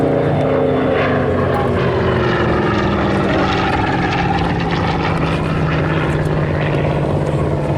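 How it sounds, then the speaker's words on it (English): A Curtiss Hawk 75 fighter passes with its 1050-horsepower Pratt & Whitney Twin Wasp radial engine, a loud steady propeller drone that holds close and full throughout with no talk over it. "A beautiful engine note, that of the 1050 horsepower Pratt & Whitney twin Wasp"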